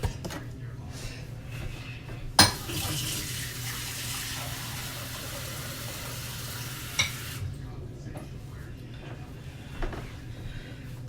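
Water poured onto freshly transplanted vegetable plants in a garden, a steady hissing, splattering stream for several seconds with a couple of sharp knocks, then fading into quieter outdoor background.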